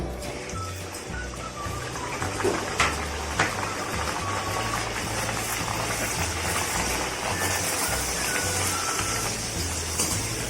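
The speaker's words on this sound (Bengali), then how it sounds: "এবার আমি একে একে রাধা বল্লভীগুলো ভেজে নেব" Radhaballavi, urad dal-stuffed puris, fry in hot oil in a karahi, giving a close, continuous bubbling hiss with a few louder crackles over a low steady hum.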